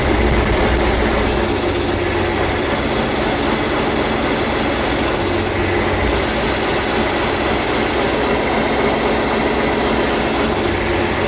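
A John Deere 4020 tractor engine runs rough and choppy at a steady idle, a continuous, loud, close mechanical rumble with uneven low pulsing and no voices.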